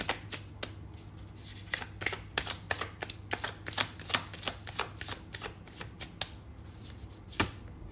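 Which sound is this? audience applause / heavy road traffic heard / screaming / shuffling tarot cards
shuffling tarot cards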